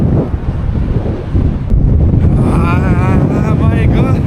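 Strong gusts batter the microphone on the Karakoram Highway, a loud, close roaring buffet that swells and rumbles continuously, with a voice audible briefly over the wind.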